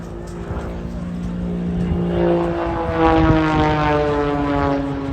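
A propeller aircraft dives at the Eastbourne International Airshow, its engine drone rising and shifting in pitch as it builds speed and turns, loud and sustained across the whole stretch.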